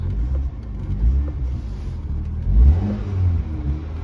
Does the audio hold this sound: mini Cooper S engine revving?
yes